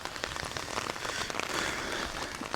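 Steady rain pours down outdoors onto rocks and pooling water, a dense continuous patter of drops filling the whole clip with no voices.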